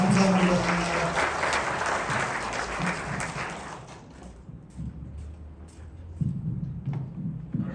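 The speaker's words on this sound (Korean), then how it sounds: "하나님께 영광의 박수 올리겠습니다." Church congregation applauding after a prayer at a Presbyterian seminar, a dense burst of clapping for over a second that thins out, followed by low room murmur and scattered faint claps.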